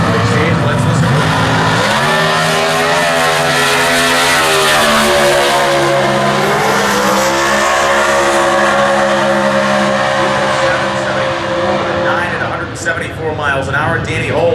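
Comp Eliminator drag racing cars at the US Nationals in Indianapolis: a loud, close engine roar climbs steeply in pitch, holds a high sustained howl with shifting tones, then breaks into rougher sound near the end.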